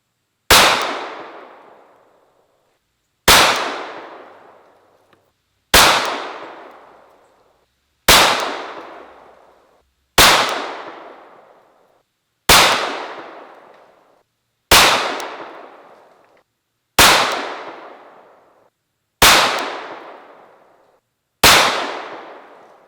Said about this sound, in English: we'll go ahead and just shoot 10 rounds of these and see what sort of numbers we get